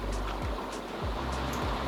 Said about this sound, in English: I don't know if you can hear that in the background, but that is rain.